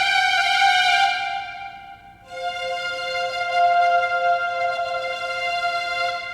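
Smooth synthesized string tones played on a Seaboard rubberized keyboard controller hold one bright chord, fade, then a new sustained chord swells in, gliding slightly, steady and clear without any voices.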